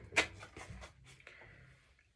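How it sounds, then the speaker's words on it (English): Velcro on a stringed-instrument case bag is pulled apart in a quick series of short, rough ripping bursts, the first one sharpest. The sound fades into quieter rustling. "If you have a bag that has Velcro and then some zippers, we're going to first undo the Velcro."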